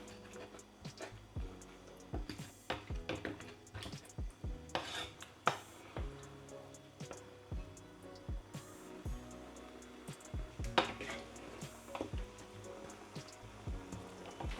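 A spoon scrapes and clinks against a metal pot of pork bones with tomatoes in irregular strokes, with soft rubbing and light knocks throughout, close by.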